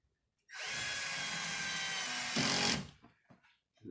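A cordless power drill drives screws while a bathroom vanity set is assembled, sounding as one steady whirring run of about two seconds that rises in pitch and load near the end, then cuts off into quiet handling noise.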